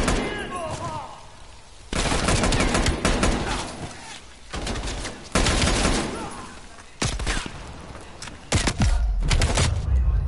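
Gunfire in the video game Call of Duty Cold War, loud bursts of rapid shots in several volleys separated by brief quieter gaps, close and dominant.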